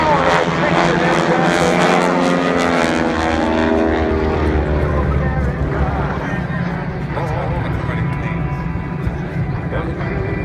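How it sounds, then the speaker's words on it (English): Aircraft flying in formation at the Wings Over Houston air show, powered by 600-horsepower Pratt & Whitney engines, make a loud, continuous droning roar that sweeps slowly in pitch as they pass close overhead, with a voice faintly underneath. "listen to the roar of these 600 horsepower engines"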